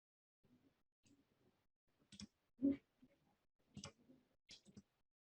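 A few scattered computer mouse clicks, soft and close, come in small separate bursts with short quiet gaps while someone works in SPSS statistics software.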